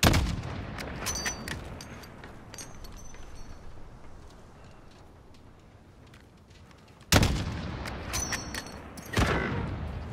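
Sniper rifle shots in Call of Duty: Modern Warfare, a cluster of sharp reports at the start, then a lull before two more loud bursts near the end, with no talking.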